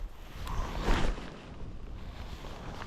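Steady wind rushes and buffets across open water at Lake Berryessa, with gusts swelling and easing and a hint of lapping waves.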